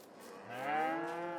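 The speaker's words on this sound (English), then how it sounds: "We've got a good amount of cows in both pens." Cows in Farming Simulator 22 give a single drawn-out moo that swells and fades, fairly quiet and alone without talk.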